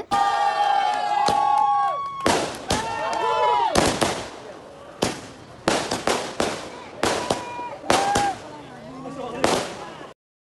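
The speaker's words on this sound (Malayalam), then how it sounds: "എന്നിട്ട് പടക്കം പൊട്ടിക്കലേനു ഗൈസ്. അടിപൊളിയേനു. കുറേ പടക്കം പൊട്ടിച്ച്" Firecrackers go off outside after a Nikkah wedding, with a rapid series of sharp, loud bangs and crackling bursts, some in quick clusters. Excited crowd voices and cheering run between and under the blasts.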